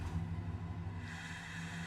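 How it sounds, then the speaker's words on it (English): A welder truck's engine idles and rumbles steadily in Farming Simulator 25, a low continuous drone with a slight lift in pitch partway through, heard alone without talk. "as you can see, that is how a proper truck should sound"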